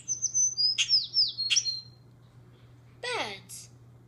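Bright bird chirps and tweets in the video game Ballyland come in two short bursts, a quick run of calls and then a brief flurry, over a faint steady hum.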